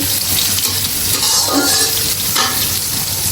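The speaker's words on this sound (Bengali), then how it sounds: "পেঁয়াজটা তাড়াতাড়ি ভাজা হওয়ার জন্য আমি একটু লবণ দিয়ে দিব" Onions frying in oil in a large wok (kadai), a loud, dense sizzle with a burst of stirring scrapes near the middle, close and continuous with no voices.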